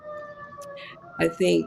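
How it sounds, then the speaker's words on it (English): An emergency vehicle siren passing by outdoors, a faint wailing tone that holds steady under a brief stretch of conversation, with a person speaking near the end. "there's a siren going by"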